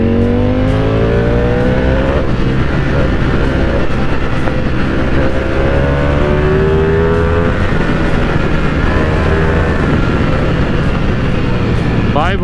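A Ducati V4S motorcycle engine roars loud and close, its pitch sweeping up and down through repeated revs across the whole stretch over heavy wind-like rumble.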